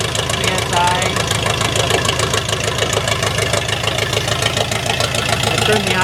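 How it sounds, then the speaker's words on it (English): A 1951 Ford flathead engine, just reassembled, idles roughly and loudly up close with a steady, rapid low-pitched pulsing throb and a mechanical knock that carry through the whole stretch. "Turn the idle up a little bit so it's not so rough."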